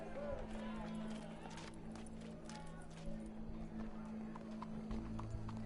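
Horse hooves clip-clop steadily in Red Dead Redemption, a repeating trot set against constant game ambience with a low hum and occasional crowd murmur.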